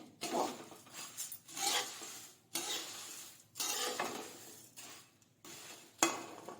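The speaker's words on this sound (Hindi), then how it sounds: "तो ये भी हमारा पोहा रोस्ट हो चुका है। तो इसे हम पलट लेते हैं।" Roasted poha is scraped and turned in a kadhai with a spatula in bursts of gritty rustling and metal scraping, separated by short pauses, fairly close and quiet.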